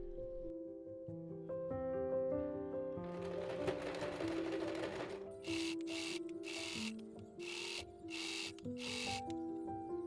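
A sewing machine stitches a midi-length dress with a stand-up collar, steady mechanical whirring running close and loud throughout, with short bright bursts of clattering stitching near the end over background music.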